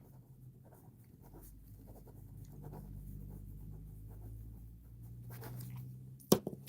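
A pen scratches out a note in short, faint strokes against a quiet room hum, ending with a sharper tap or click near the end.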